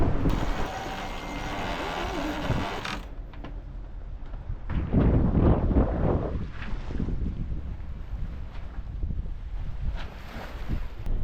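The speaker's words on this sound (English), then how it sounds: "The boat's going through the waves a lot smoother." A sailboat, a Lagoon 450 catamaran, moving through waves in wind of about 22 knots, with roaring wind buffeting the microphone, a brief lull, then surging rushes of water against the hull, loud and close with no talk.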